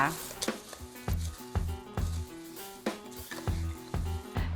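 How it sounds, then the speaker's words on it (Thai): Fried peanuts tossed slowly with cornflakes and herbs in a pan, giving soft rhythmic scraping and rustling strokes with a light crackle, close and steady, with someone speaking over it. "คลุกให้ทั่วค่ะ ขั้นตอนนี้ต้องค่อยๆ คลุกนะคะ ระวังไม่ให้คอนเฟกแตกค่ะ"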